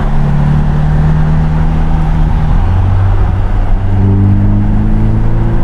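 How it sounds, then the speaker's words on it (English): Ferrari Roma exhaust heard from inside the cabin while driving in sport mode, a steady low engine drone that shifts pitch partway through as revs change, continuous and fairly loud with no talking. "Let me roll up my window again just to hear the exhaust"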